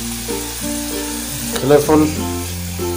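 Capsicum (bell pepper) fries lightly in a pan with a steady soft sizzle, partly masked by background music, while a voice speaks briefly.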